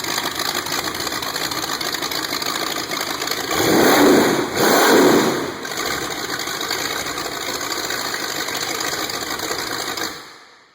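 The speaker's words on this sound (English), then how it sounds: "this old motor doesn't sound bad, and it'll run good" An old Buick 425 V8 runs on a test stand, a steady loud engine drone throughout with a brief rev swell in the middle before it cuts off at the end.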